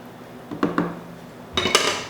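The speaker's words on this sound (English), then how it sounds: "So you can give this a quick stir, just very, very lightly." A spoon lightly stirs Italian wedding soup in a pot, giving two soft clinks against the pot, a short pause, then a brief cluster of clinking.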